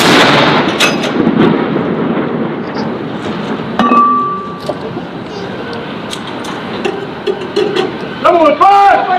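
Ceremonial 21-gun artillery salute by US and UK soldiers at Edinburgh Castle, a loud boom early on followed by a long rumbling echo across an outdoor crowd, with chatter and a few sharp clinks near the end.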